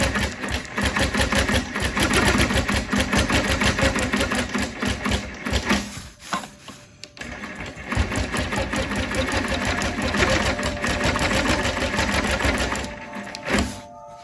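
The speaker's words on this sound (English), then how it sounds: "That's why you'll see me kind of shake the machine back and forth before I actually take that first stitch." A quilting sewing machine stitches in the ditch on a lotus flower wholecloth quilt, its rapid rhythmic needle chatter loud and close, briefly slowing and stopping midway before running on steadily.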